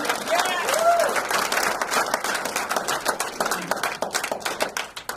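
An audience at an organic agriculture talk in Sangli claps in a dense burst that thins into scattered, fading claps, with a brief whistle-like tone early on.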